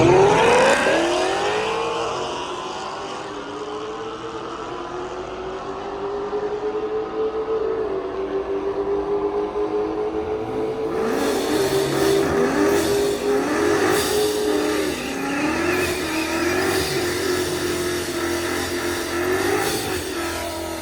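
A Procharger D1X supercharged Mustang launches down a drag strip, engine note climbing steadily through the pass with a sharp gear change midway, loud and sustained, no talking.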